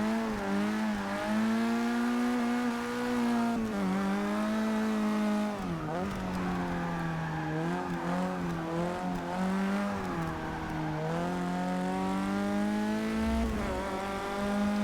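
A race car engine from the Forza Motorsport 6 racing game drones steadily and loud throughout, its pitch rising and dipping with shifts and cornering, with a brief low rumble near the end.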